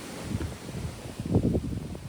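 Gusty wind on a hilltop rumbles and buffets the microphone in low, uneven bursts, swelling strongest near the end.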